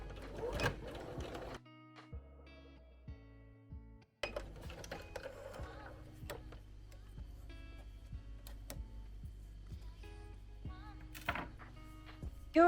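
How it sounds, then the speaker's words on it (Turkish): A sewing machine runs a straight stitch in soft, rhythmic bursts, stopping briefly partway through and picking up again, with light clicks and handling noises over a low hum. "İşaretlediğim parçamı makineme yerleştiriyorum ve düz dikişte dikiyorum."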